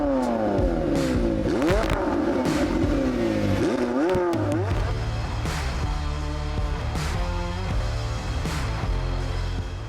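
A powerful 710-horsepower twin-scroll V8 engine in a McLaren 720S revs up and down repeatedly, then settles into a deep, rumbling idle with occasional blips, loud and close.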